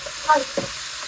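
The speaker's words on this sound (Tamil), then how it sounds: "தக்காளி பழமும் பெப்பரும், கருவேப்பிலை. சரி, இது வதங்கி வரும்." Tomato, pepper and curry leaves sauté in a pan before meat is added, giving a short burst of steady sizzling with a couple of quick stirring scrapes close by.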